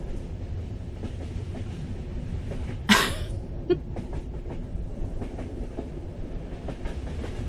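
Interior of a moving commuter train carriage, a steady low rumble of rolling wheels with faint rhythmic rail clicks, one sharp clatter midway and a soft cough, close and continuous.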